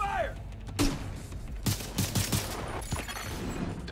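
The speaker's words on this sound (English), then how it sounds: "Airburst, fire!" Airburst gunfire in The Division 2 at the District Union Arena stronghold: a spread of sharp, fairly distant shots and bursts, some in quick clusters, mixed with game voices and background combat noise.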